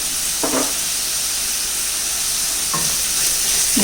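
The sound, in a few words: stirring and sautéing egg biryani masala in a pan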